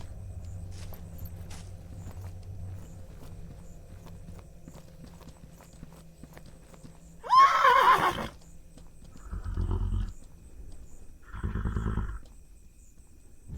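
Horse in the game Mortal Online 2 gives a loud whinny, followed by two lower snorting breaths, against quiet hoof clopping and ambient background.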